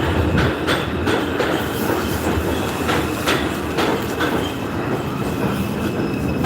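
A local 5 subway train rumbles along the tracks with steady rail noise and repeated clickety-clack wheel hits, loud and close throughout, with no talking.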